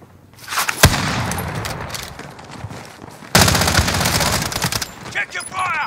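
Dense bursts of automatic gunfire and overlapping shots in an online shooter video game, loud and continuous across the stretch with a brief break midway, mixed with radio-style voice callouts.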